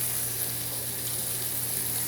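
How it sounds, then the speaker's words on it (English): Peppers frying in hot, somewhat over-oiled pan with garlic, a steady close sizzle and crackle with no pauses throughout. "Now I'm just going to add the peppers in. Throw them right on."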